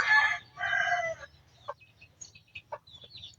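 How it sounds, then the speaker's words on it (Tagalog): Breeder gamecock crowing nearby, two strong drawn-out calls followed by softer clucks and short chirps from other birds in the loft. "Ito naman isang breeder natin ng barako."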